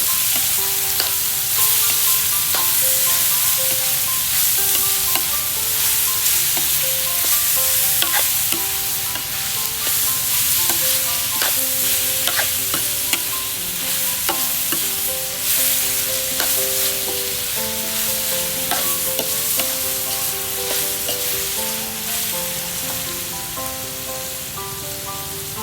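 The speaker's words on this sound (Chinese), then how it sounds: "最后放50克的大洋葱， 稍微的翻炒一下" Coriander roots, garlic and onion are stir-fried in a hot wok for Thai braised pork, a constant crackling sizzle with repeated scraping of the spatula and clinks against the pan, close and continuous. Light music plays underneath.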